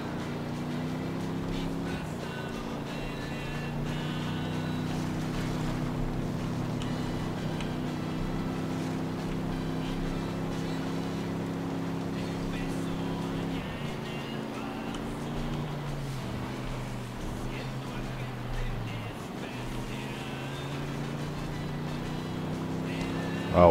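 A vehicle is driven in the game Ghost Recon Wildlands, its engine a steady low droning hum with shifting pitch as it speeds along, continuous and fairly loud throughout.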